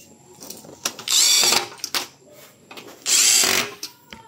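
A power drill drives a screw into an aluminum sliding window frame in two loud whirring bursts, with quieter handling clicks and scrapes in between.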